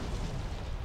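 A grenade explosion in the shooter game Modern Combat 5: Blackout gives a brief, dense low rumbling boom that fills the short moment at steady loudness.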